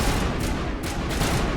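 Gunfire in the video game Mass Effect, an enemy shooting from an upper tier: loud, continuous bursts of rapid shots filling the whole moment, with no talk over them.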